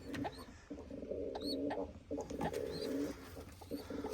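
Pigeons coo in repeated soft, throaty phrases, close by, with a few high chirps and rustling between the calls.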